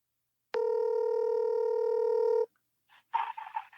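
A telephone tone holds steady for about two seconds, then cuts off, followed by a few short dialing beeps and a brief burst of line noise, clear and close.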